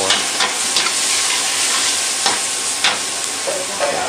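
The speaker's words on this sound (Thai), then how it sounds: "ผัดกะเพราจะอร่อยก็อยู่ที่ตรงนี้ครับ" Holy basil stir-fried for pad kaphrao over a high, smoky flame, a loud dense sizzle throughout with repeated scraping tosses of the wok.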